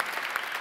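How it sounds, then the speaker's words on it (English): Audience applause at a discussion event, a brief, dense patch of steady clapping throughout. "Round of applause."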